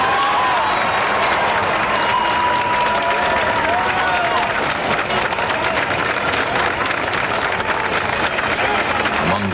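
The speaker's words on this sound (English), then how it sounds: "White House staffers and their families standing in the rain, applauding and cheering as he came into view" Hundreds of White House staffers and their families stand outdoors in the rain, applauding and cheering in a continuous loud crowd roar with clapping. A few voices and whistles cut through.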